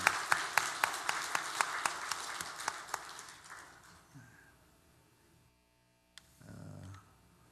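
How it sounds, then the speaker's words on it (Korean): A church congregation claps together in thanks, a run of evenly spaced sharp claps that fade out over a few seconds, followed by near silence and a low hum. "다시 한번 하나님께서 우리에게 은혜 주심에 대해서 감사의 박수 한번 올려드리도록 하겠습니다."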